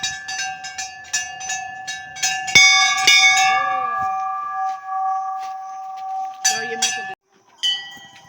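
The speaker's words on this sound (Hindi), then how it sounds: "चल 2 घंटी बजा दो" Several bright metal temple bells ring in quick succession and their tones overlap, then a single bell rings out and lingers, with a few faint voices nearby.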